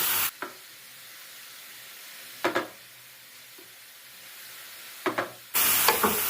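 Shawarma meat frying in a pan gives a steady, fairly quiet sizzle. Sharper bursts of hiss and stirring break in near 0.4, 2.5 and 5.1 seconds, and the frying grows louder at the end.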